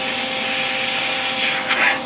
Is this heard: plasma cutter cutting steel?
yes